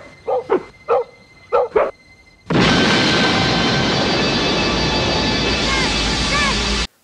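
A dog barks four times in quick separate bursts from a film scene, then the sound gives way to a loud sustained roar that fills the rest of the clip.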